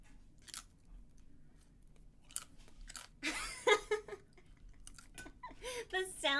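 Close crunching and chewing of crispy bacon, with repeated sharp bites and brittle shards breaking, and a voice murmuring between the crunches.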